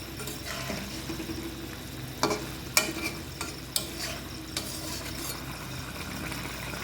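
Paneer with garam masala is stirred in a hot pan. A utensil scrapes near the mic several times over a steady low sizzle of frying.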